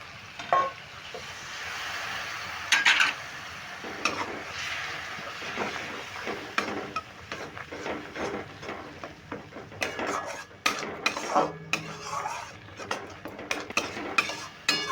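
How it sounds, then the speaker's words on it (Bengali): Mustard-poppy paste masala being stirred and fried in a pan for a vegetarian okra curry, with steady sizzling and frequent scraping, clinking strokes of a utensil against the metal pan, close up and with no talking. "মিশিয়ে এক মিনিট আমি এইভাবে একটু নেড়ে কষিয়ে নেব"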